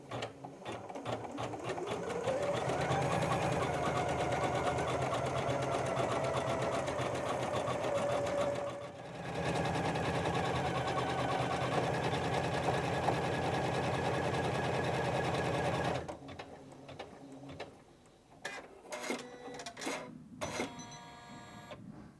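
Janome Memory Craft 550E LE embroidery machine stitching a design: a fast, steady mechanical whirr and needle rattle running close and continuous for about sixteen seconds, then stopping into a few quieter clicks and handling sounds.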